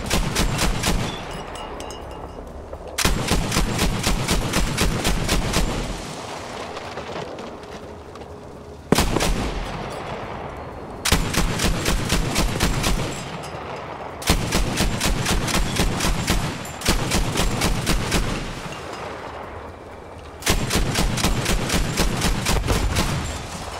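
Rapid automatic gunfire from the video game Battlefield V comes in about seven loud, sustained bursts separated by short pauses.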